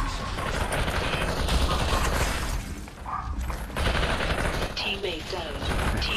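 Gunfire in the VR shooter Population: One, dense rapid bursts and shots crackling almost nonstop over loud game noise, with voices talking over it.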